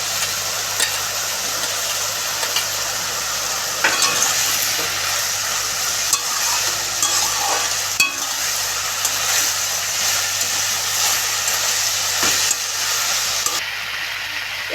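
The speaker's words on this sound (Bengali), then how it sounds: "আমি মোচাটা একটু ভেজে নেব। এবারে আমি ভেজে রাখা আলুটা দিয়ে দেব।" Banana flower and fried potato cook together in a pan, giving a continuous loud sizzle under a low steady hum, with scattered utensil scrapes and taps throughout, close up and without talk.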